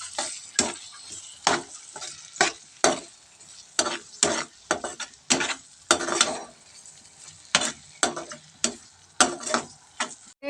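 Onions and tomatoes sautéing in a pan are stirred with a utensil that scrapes and taps the pan repeatedly in an irregular rhythm, over a soft sizzle, close up and without talk.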